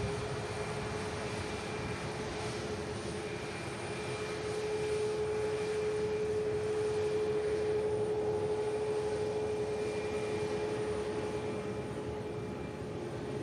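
An EasyJet airliner arriving from Tivat taxis past, a steady jet engine whine and rumble with a sustained tone that swells slightly as it passes close by, without voices.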